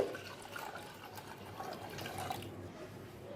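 Water is poured into a pressure cooker for cooking dal, a faint, soft trickling that runs steadily for a few seconds in a quiet kitchen.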